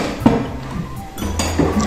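Clinking and knocking of plates and dishes being stacked and put away in a home kitchen, a few sharp close impacts over a low background hum.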